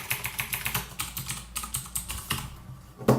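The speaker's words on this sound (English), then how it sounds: "Sorry about my clicking noise, but I have a mechanical keyboard." Fingers type rapidly on a mechanical computer keyboard, producing a close run of sharp, clicky keystrokes in a quick uneven rhythm with a louder final tap.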